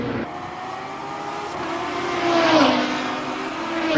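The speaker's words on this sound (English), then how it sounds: "Freeway logjam with hypercars." Hypercars in a WEC endurance race roar past, a loud engine drone that climbs in pitch as one car accelerates by, building toward the end without any voices.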